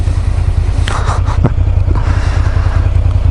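A motorcycle being ridden along a road, with a loud steady engine rumble and wind noise throughout and a few brief clattering knocks near the middle.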